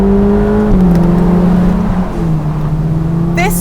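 A Ferrari Portofino M convertible under hard throttle, a loud steady engine drone close by that dips in pitch, with a voice talking over it and a brief higher whine near the end.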